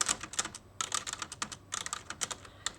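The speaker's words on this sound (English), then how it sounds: "I'm just literally typing gibberish," Rapid, uneven keystrokes on a computer keyboard with occasional space-bar hits, close and fairly quiet, coming in bursts with short pauses and no speech.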